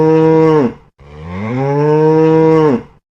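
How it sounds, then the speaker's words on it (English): A cow moos twice, loud and close: a short low moo, a brief pause, then a longer drawn-out moo that swells and fades, with nothing else heard. "It's a cow."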